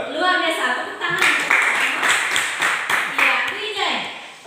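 Clapping from a group of people at a church teaching session, a dense patter of hands that rises after a second and keeps going, with voices chattering underneath throughout.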